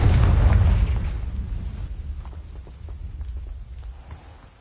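A Confringo blasting spell goes off in Hogwarts Legacy, one loud booming burst up front that rumbles and fades into a crackling, debris-like tail.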